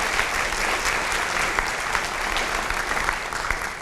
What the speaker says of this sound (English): So if we could just get applause for all those sponsors to make this possible.